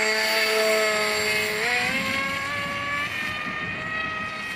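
A radio-controlled model airplane flies on a windy day, its electric motor giving a steady, fairly loud whine that dips and shifts in pitch as it passes, alone without voices.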